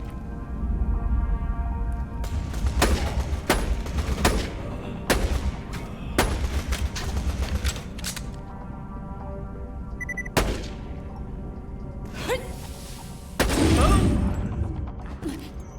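Gun firing in the Borderlands: The Pre-Sequel video game, a string of loud sharp shots at irregular intervals with heavy recoil booms and a final dense burst, with talking between them.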